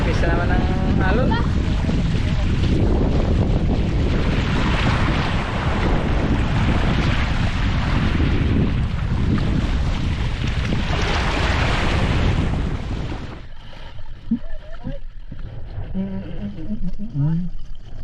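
Sea waves churn and wash around a boat, mixed with heavy wind buffeting for most of the stretch, then the roar drops to quieter lapping water as voices speak over it.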